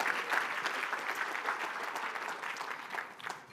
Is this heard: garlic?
no